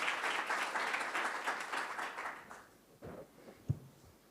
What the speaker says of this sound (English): So let's give him a round of applause as well.